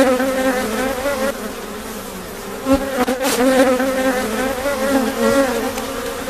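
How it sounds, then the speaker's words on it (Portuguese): Loud, dense buzzing of a honey bee swarm settling at the entrance of a new hive after transfer from a nucleus box, a close, continuous drone with individual bees passing near. "vejam como o enxame trabalha normalmente"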